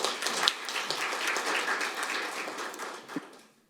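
Audience applause welcoming a lawmaker at a technology seminar, a short burst of clapping that gradually softens and dies away after a few seconds.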